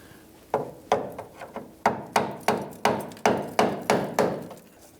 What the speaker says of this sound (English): we're just working on tapping this clip off here